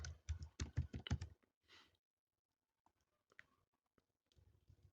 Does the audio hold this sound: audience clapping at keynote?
no